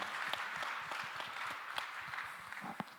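Steady applause from a church young adults' Sunday worship congregation, many hands clapping in a dense, even patter with a few sharper claps standing out, moderately distant.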